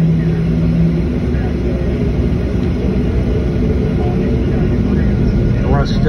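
A Southwest airliner's CFM engines roar on takeoff from Sarasota-Bradenton, a loud, steady, dense rumble that fills the whole clip with no letup.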